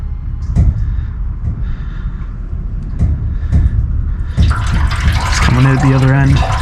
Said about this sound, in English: So I'm just going to gently start pouring some water down there and see if anything happens